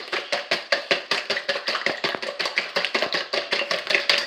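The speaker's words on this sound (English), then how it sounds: "All right, I'm going to mix that all up together." Chicken thighs are mixed with seasonings in a kitchen, making a fast, steady run of wet slapping and clicking strokes. Roughly twenty even beats follow one another without pause, close up.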